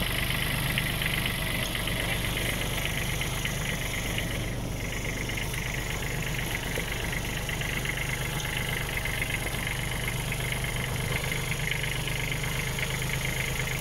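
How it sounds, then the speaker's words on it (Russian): A Kubota Aste A175 compact tractor idles on delivery in a constant, unbroken drone, with no talking. "Так, вот он тракторок."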